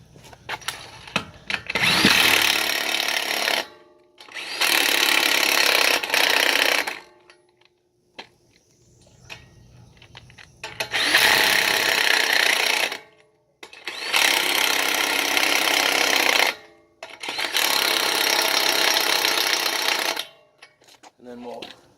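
Power impact tool tightening the lug nuts on a 2018 Toyota Tundra wheel in a cross pattern, five loud close bursts of whirring and rattling, each a few seconds long, separated by short quiet gaps.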